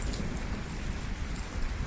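Heavy rain pours down at a camp in the Kalahari, a dense and steady hiss of close downpour that lasts the whole short moment with no voices.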